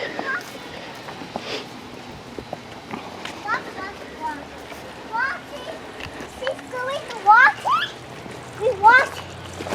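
Water hisses and splashes steadily from a hose, with high chirpy voices and short calls breaking in over the spray.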